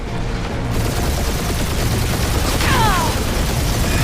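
A weapon barrage rages in the video game Guardians of the Galaxy, a dense, unbroken wall of loud gunfire and blasts that holds steady for the whole stretch, with a brief whistling streak near the end.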